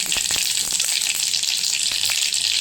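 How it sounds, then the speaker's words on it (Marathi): Mustard seeds sizzle and pop in hot oil in a pan for chitranna, a dense steady frying hiss broken by sharp crackling pops, close and loud. "आता याच्यामध्ये मोहरी टाकली, गॅस कमी केला."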